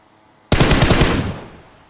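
A sudden burst of rapid automatic gunfire from PUBG Mobile, loud and close, rattling for about a second before trailing off into a fading echo.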